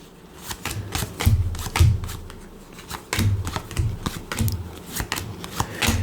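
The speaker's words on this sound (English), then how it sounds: "we're going to shuffle the deck, and each player is going to be dealt 5 cards to start with" A deck of Here To Slay game cards being shuffled by hand, a series of close riffles and bridging flutters with brief pauses between, fairly loud and alone without speech.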